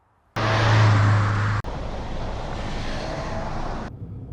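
A Fiat Panda 100hp engine drones steadily with road and wind noise on a smooth road, loud and close, briefly cutting out before continuing at a slightly lower level.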